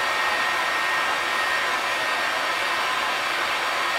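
Heat gun blowing hot air on a mini greenhouse frame for raised beds, a steady loud airy whoosh held evenly throughout, with no voices.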